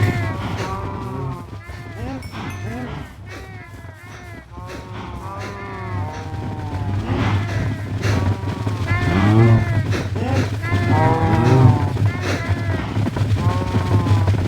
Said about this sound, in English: It is legitimately a sea of cows.